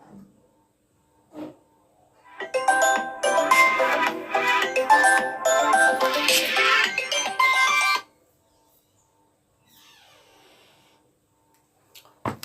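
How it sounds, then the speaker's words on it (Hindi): An incoming phone call's ringtone plays a bright, repeating electronic melody for about five seconds, fairly loud and close, then cuts off into near silence. "बीच बीच में फोन आ जाता है किसी के तो काटना पड़ता है।"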